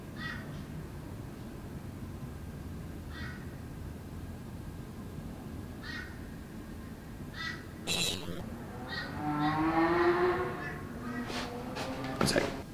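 A crow caws several times in short, evenly spaced bursts from a distance, heard over a steady background hiss with someone talking nearby.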